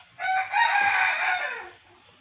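Chickens near a kitchen: a single loud, close rooster crow lasting well over a second, sung alone with no talk over it.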